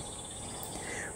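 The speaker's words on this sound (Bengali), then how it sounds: "একটানা ঝিঝি ডেকে চলেছে।" Faint continuous cricket chirping, a thin high steady trill running without break in a quiet night background.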